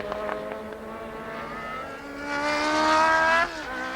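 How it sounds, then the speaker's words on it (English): Formula One racing cars at the 1981 Spanish Grand Prix, high-pitched engines screaming and rising through the gears, swelling louder as they approach, then the pitch dropping as they pass. "De Angelis right up the gearbox of Reutemann's car"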